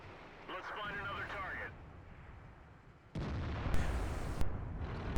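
A tank gun fires in the World of Tanks video game, an AMX ELC bis on the Winterberg map, with a sudden heavy boom and rumbling tail after a stretch of engine noise and faint game chatter.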